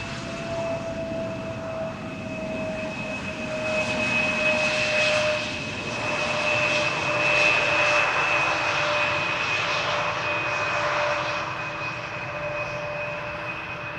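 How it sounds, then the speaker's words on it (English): An airliner lands at Amsterdam Schiphol at idle without reverse thrust, its steady engine whine and tonal hum swelling and fading over a continuous broad roar as it passes fairly close, with no one speaking. "Another idle, no reverse landing."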